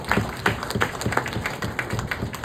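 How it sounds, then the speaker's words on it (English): An audience claps for a speaker at a World Mental Health Day address, a modest, uneven patter of hand claps from a small crowd lasting a couple of seconds. "Please give a clap to him."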